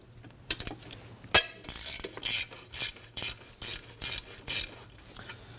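A ratchet loosening a 12mm bolt holding the alternator on a 2003-2006 Subaru Baja 2.5L H4, a clear run of rapid clicking ratchet strokes close by in a steady back-and-forth rhythm after a sharp knock.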